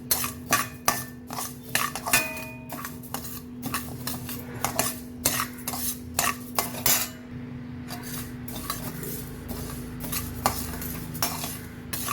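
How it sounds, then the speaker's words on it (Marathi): Rice is dry-roasted in a hot kadhai for thalipeeth flour, a rapid series of metal spatula scrapes and clinks against the pan with faint rustling grains, close and with no talking. "तांदूळ पण आपल्याला नॉर्मल भाजून घ्यायचं गरम कढई आहे ना त्याच्यामुळे पटपट होते भाजून"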